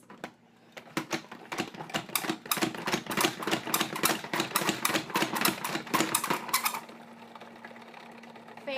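A salad spinner whirs loudly as it spins freshly washed salad, a fast rattling clatter that speeds up, holds for several seconds, then drops to a softer spinning hum.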